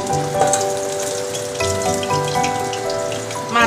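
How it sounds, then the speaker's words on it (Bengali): A hilsa fish head frying in a pan of oil gives a close, continuous spitting crackle, like rain patter, with scattered pops over a faint background hum. "এই মুড়োটা আমার ভাজা হয়ে এসছে। এই যে দেখুন বন্ধুরা, এটা আমার ভাজা হয়ে গেছে"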